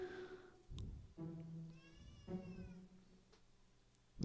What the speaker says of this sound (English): The Rave Kitty is meowing at me.